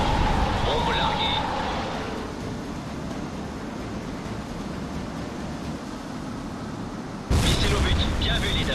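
A bomb explosion destroys a rebel warehouse in the combat flight game HAWX, heard as a long, loud, rumbling blast that fades gradually, with a sharp second burst near the end and radio voices over the start.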